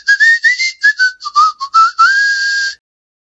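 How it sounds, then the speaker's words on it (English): A person whistles a cheerful, bouncy melody of short notes ending on a long held tone, clear and close with no other sounds. "walked down the corridor whistling a happy tune"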